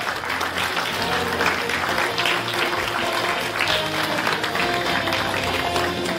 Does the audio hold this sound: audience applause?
yes